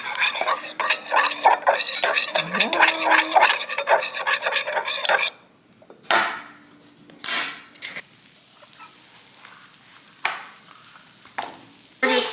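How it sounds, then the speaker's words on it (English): Melted butter stirred with garlic powder in a dish, with loud, close, rapid scraping and rubbing strokes for several seconds, then a few separate short scrapes spaced out by quiet gaps. "And the garlic powder. Kind of stir that up."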